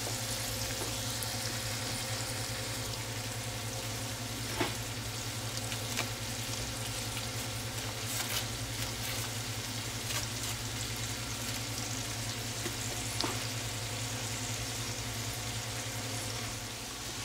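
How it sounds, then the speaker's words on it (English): Two sticks of butter melting in a pot after cooking venison steaks, a soft continuous sizzle and bubbling with a few faint pops and clicks, steady and fairly quiet throughout, no talking. "Now I'm gonna add 2 sticks of butter to this."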